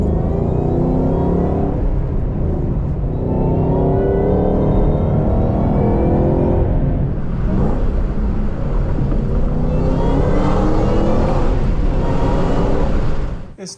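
A Ford GT500 with an aftermarket intake revs with a loud, close, rumbling roar that rises and falls in surges over a continuous engine drone, with a faint whirring supercharger whine in the mix.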